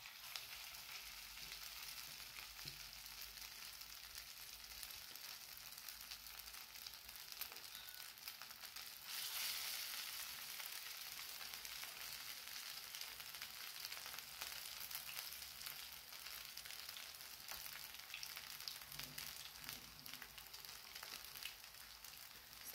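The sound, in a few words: moong bean vada frying on slow gas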